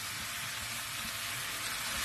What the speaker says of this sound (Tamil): இப்ப ஃபைனலா நான் கேரட்டை ஆட் பண்றேன்.